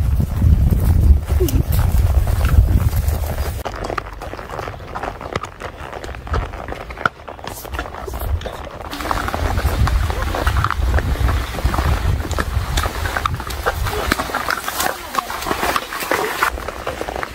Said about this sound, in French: Des chevaux albanais également à ta disposition si tu veux te faire une petite rando